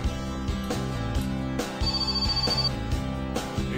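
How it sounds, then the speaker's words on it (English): A phone in the video game My Summer Car rings in repeated electronic bursts, a steady rhythmic ringtone pattern heard clearly over faint game background. "Shut up, phone!"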